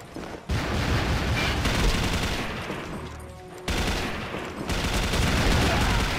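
The Black Gold Turbine MK5 machine gun in a shooting game fires in long, dense, roaring bursts with a brief pause midway before the fire resumes, loud and close.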